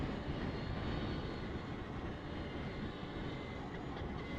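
Riding a Victory Empulse TT electric motorcycle: a steady, even whir and rush of wind and motor noise holds throughout at low level, with no talk.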